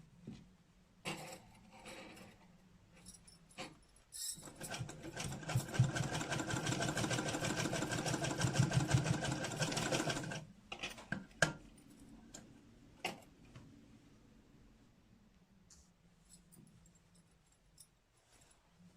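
Sewing machine stitching a baby frock, running in a long steady burst of rapid stitching, with scattered clicks and handling noises before and after.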